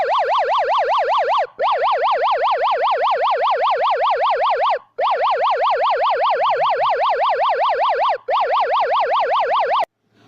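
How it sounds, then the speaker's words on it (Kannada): A phone app-lock alarm triggered by a wrong unlock pattern blares a loud electronic siren that wails rapidly up and down in long continuous bursts, with short gaps between them, until it cuts off near the end. "ಕರೆಕ್ಟ್ ಪ್ಯಾಟ್ರನ್ ಕೊಡೋವರೆಗೂ ಸೈರನ್ ಅನ್ನೋದು ರಿಂಗ್ ಆಗ್ತಾನೆ ಇರುತ್ತೆ"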